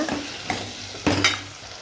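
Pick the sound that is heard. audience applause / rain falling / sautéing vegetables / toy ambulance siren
sautéing vegetables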